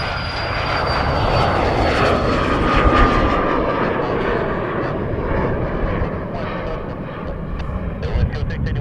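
An Aeromexico Boeing 737 MAX 9 at Montréal-Trudeau airport fills the air with a loud, steady jet engine roar that swells slightly and holds, heard from close by with a faint high whine on top.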